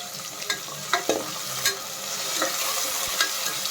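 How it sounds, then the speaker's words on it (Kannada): Onion and tomato with spices sizzle steadily in a pan on the stove, with a low continuous fry and occasional scrapes and clicks of a spoon stirring, no voices. "ಈರುಳ್ಳಿ ಫ್ರೈ ಆದಮೇಲೆ ಟೊಮೊಟೊ ಹಣ್ಣು ಹಾಕ್ಕೊಂಡು ಅದನ್ನು ಚೆನ್ನಾಗಿ ಫ್ರೈ ಮಾಡ್ಕೋಬೇಕು"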